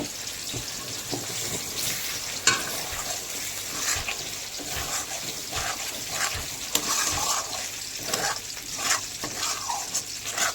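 Meat with purple cauliflower, turmeric and chili powder sizzles in a pan after a splash of water, a steady hiss with intermittent stirring scrapes and clinks throughout, no talking.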